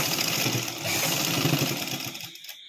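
A sewing machine stitches a sleeve onto a garment, its motor whirring in a steady, close, continuous run before stopping abruptly near the end.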